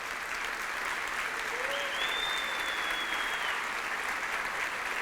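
A church congregation applauds with sustained, even clapping throughout, while a faint rising whistle or cheer cuts through the middle.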